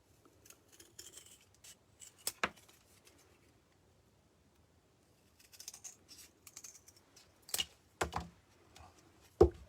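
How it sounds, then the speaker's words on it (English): Scissors cutting paper after pencil tracing, made while building a wooden lantern from Jenga blocks: a few short, close snips and crisp rustles scattered between quiet pauses, with no talking. "And then just cut it out with the scissors."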